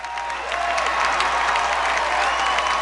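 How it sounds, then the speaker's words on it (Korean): Audience applause in a large hall as a standing ovation begins, dense and continuous clapping at fairly high level with some crowd noise mixed in and no break. "한 여성이 이때 일어서서 기립박수를 치기 시작했습니다"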